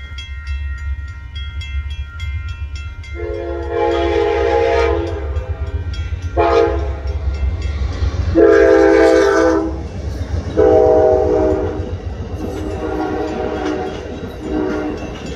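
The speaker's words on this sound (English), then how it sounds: "Coming up is the daily northbound Amtrak Coast Starlight train number 14" The northbound Amtrak Coast Starlight passenger train rumbles past in Oregon's Willamette Valley with a steady low drone, sounding its horn in several long blasts that swell loud and close.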